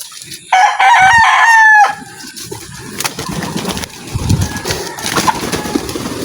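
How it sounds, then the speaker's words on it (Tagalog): A rooster crows loudly up close, then chickens cluck and scratch about more quietly in an outdoor yard. "Ang mga manok oh."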